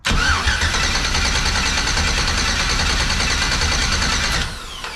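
Starter cranking a turbocharged car engine for a few seconds, a loud steady whirring churn that runs continuously before cutting off near the end, close up with no voices.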